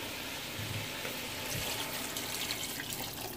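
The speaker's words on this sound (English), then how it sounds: "So now I'm gonna add 1 cup of hot water" Steady rush of hot water pouring into a pot of stewing beef, a continuous splashing flow lasting a few seconds with no talking.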